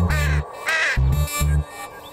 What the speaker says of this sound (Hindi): ये कौवा टाई टाई क्यों करता है?